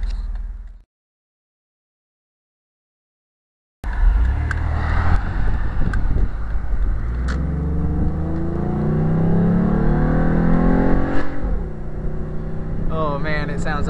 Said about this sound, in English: Yeah, this car sounds amazing now.